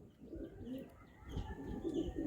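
Giribaz pigeons coo in low, repeated throaty bursts close by, with faint chirps and a steady hum of a loft or yard around them.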